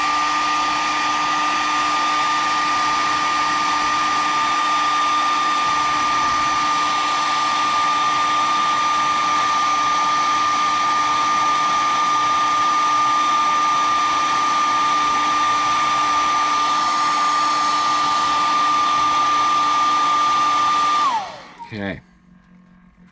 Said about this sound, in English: let's do this hair dryer.